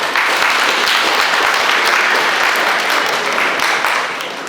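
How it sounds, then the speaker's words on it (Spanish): Loud applause from the congregation at a baptism for the newly baptized Christians, a dense patter of clapping that holds steady and then tapers off at the end. "quiero pedir unas palmas muy fuertes para los nuevos cristianos"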